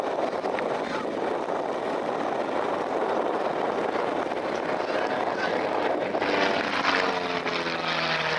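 Aerobatic display planes at the Cleethorpes airshow produce a continuous, loud engine drone mixed with wind rush. The roar swells slightly toward the end with no break.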